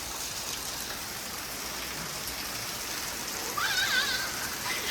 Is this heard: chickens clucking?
no